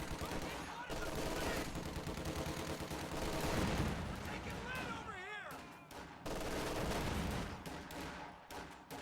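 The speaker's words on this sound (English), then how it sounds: "Wow, rifles with a light machine gun." Rifle and light machine gun fire in the Company of Heroes 2 strategy game, with steady rattling bursts and scattered shots packed through most of the stretch, heard beneath someone talking over the action.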